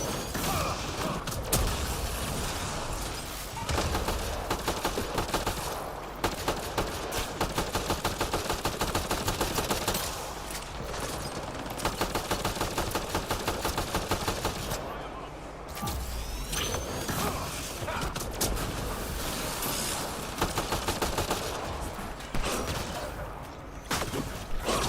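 Sustained automatic gunfire from a firefight in the video game Mass Effect Andromeda, dense rapid bursts running almost continuously for long stretches with brief lulls, loud and close, with game sounds mixed in.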